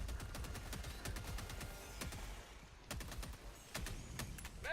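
Rapid automatic gunfire in Helldivers 2, a dense volley of sharp shots in quick bursts that runs on until the magazine empties, with brief pauses between bursts and no talk.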